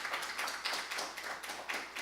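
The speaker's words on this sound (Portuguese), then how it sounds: "Mais uma salva de palmas para o reverendo Jonatas" Faint, rhythmic clapping from a small gathering of Christian teachers applauding a reverend, a steady patter of hand claps at a distance.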